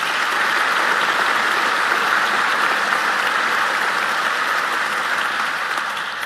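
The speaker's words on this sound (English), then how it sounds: "Please give him a round of applause for that." A crowd at a county State of the County address applauds steadily with dense, continuous clapping that holds strong for several seconds before tapering slightly at the end.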